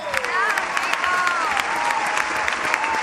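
A live audience at a Puerto Rican TV variety show applauds steadily with cheering throughout, while voices call out over the continuous clapping.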